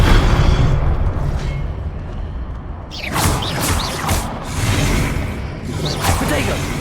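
A Confringo blasting spell goes off in Hogwarts Legacy: a continuous loud rumble breaks into sharp, bright explosive bursts and swishing whooshes, with a second blast a few seconds later.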